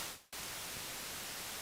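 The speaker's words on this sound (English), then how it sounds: "I can use a noise, white noise." Synthesizer white noise, a flat, dense hiss that cuts out for a brief instant and then returns, continuing steady and even to the end.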